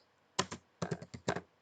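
A few quick bursts of keystrokes on a computer keyboard, close and crisp, in short clustered clicks with silence between them.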